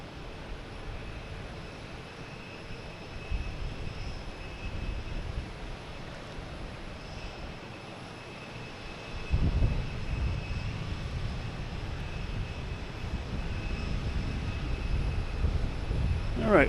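A Delta Embraer 175 arriving from Newark at Boston Logan, crossing the waterway at the runway end; a distant engine drone swells into a louder low roar midway and keeps building, with talk at times.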